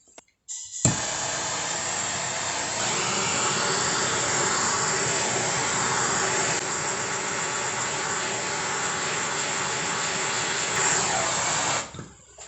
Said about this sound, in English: I might add a heat gun to it just to possibly bend it easier